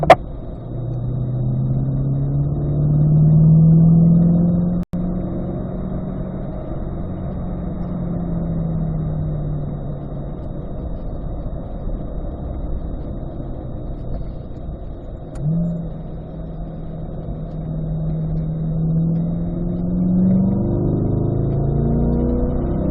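Car engine on a warm-up lap at the Ron Fellows Performance Driving School, manual shifting up to fourth gear, rising and falling through several rev sweeps with gear changes, loud and steady from inside the car, no talk.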